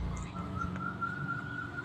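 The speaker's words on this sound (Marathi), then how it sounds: "आपल्याला कचट झाकण लावून ह्याच्या जवळपास चार ते पाच शिट्ट्या करून घ्यायचं आहे" A pressure cooker whistles while rajma cooks, giving a steady, thin, high whistle that holds throughout against a low background hum, with no talk.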